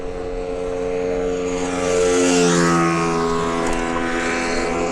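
A HeyBike Villain 52V electric dirt bike speeds up on pavement, its high motor whine rising in pitch over heavy rushing wind noise that swells around the middle and stays loud throughout.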